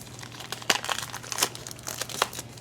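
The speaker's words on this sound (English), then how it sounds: "Let me open my pack of envelopes here" A plastic-wrapped pack of envelopes torn open by hand, with sharp crinkling and crackling bursts of plastic wrap at an irregular pace, close and fairly quiet, with no talking.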